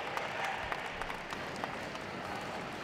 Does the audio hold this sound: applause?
yes